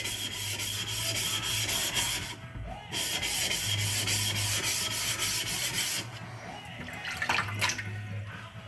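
A single bevel knife sharpened on a wet 400 grit whetstone, with a steady, loud rasping scrape in long continuous strokes and brief pauses between passes.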